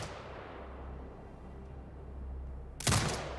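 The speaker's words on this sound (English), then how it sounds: "Exit binocular mode and command the turret to fire." A single heavy turret shot in the video game Sniper Ghost Warrior Contracts 2 booms out near the end, a sharp loud blast after a few seconds of low droning ambience.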